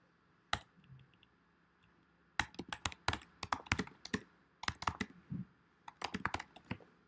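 Bursts of fast typing on a somewhat faulty computer keyboard, crisp close clicks in irregular clusters separated by short pauses, heard alone with no voices.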